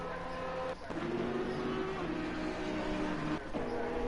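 Porsche and Bentley race cars circling a Spanish racetrack, engines droning and shifting pitch in a steady roar, with a brief dip and upshift heard twice, under a commentator's voice.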